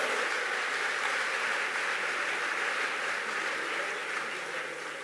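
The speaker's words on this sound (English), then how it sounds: "Let's give them a warmer round of applause." Sustained audience applause for young people at an African leaders' event, a dense steady wash of clapping throughout, slightly fading at the end.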